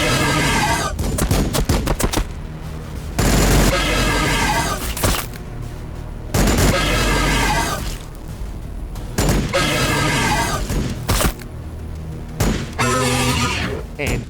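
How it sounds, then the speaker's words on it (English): Rapid bursts of automatic gunfire and heavy booms from Overwatch shooting in the strategy game Warhammer 40k Battlesector come in loud, repeated volleys over the whole stretch, mixed with a game-style creature cry. "A bunch of Venanthropes dive headlong into my Overwatch fire."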